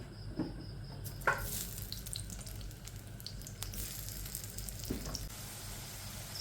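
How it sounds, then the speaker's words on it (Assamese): Potatoes fry in hot oil for a smoked pork dish, giving a steady, moderate sizzle with a few sharp knocks and clatters of a utensil in the pan. "এতিয়া মই আলুখিনি ভাজি লওঁ ফাৰ্ষ্ট আলুখিনি ফ্ৰাই কৰোঁ"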